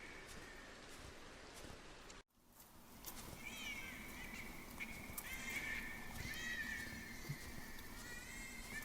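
A horse neighs and whinnies repeatedly at mid-distance over a steady ambient wash, following a brief abrupt cut to silence.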